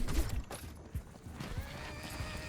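A horse in the video game Far Far West gallops and neighs, quiet hoofbeats and a whinny mixed with faint background game sounds.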